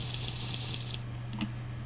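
Water runs from a tap in the survival game Nature Hates You, a steady hissing splash that cuts off after about a second, followed by a few faint drips and clinks over a low hum.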